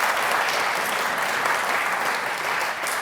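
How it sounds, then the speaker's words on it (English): Dense, sustained applause from a large crowd at a community awards ceremony, loud and even throughout with no speech over it. "Another round of applause for that."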